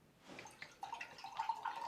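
High pH Kangen water pours into a container of water and oil, giving a soft splashing, trickling sound that builds over about two seconds, close by, with no talking.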